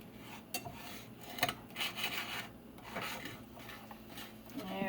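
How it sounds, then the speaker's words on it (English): Brown sugar is whisked in a pan on the stove, giving soft, irregular scraping and rubbing strokes with small metallic taps, fairly quiet and close. "we're supposed to be whisking this frequently"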